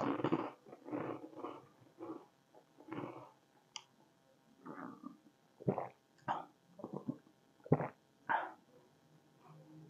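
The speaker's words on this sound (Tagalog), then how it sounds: "Yan, tumatahol. Actually, aso dyan ngayon right now." A dog barks nearby in fairly quiet, irregular bursts of short barks and yips separated by brief pauses.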